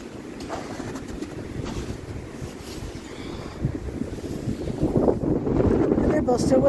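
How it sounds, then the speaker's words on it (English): Gusts of wind buffet a microphone outdoors in snowy weather at a cemetery, a rough low rumble that swells louder toward the end, with no clear speech. "it's probably because I've been hit with a gust of wind."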